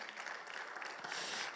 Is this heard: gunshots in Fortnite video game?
no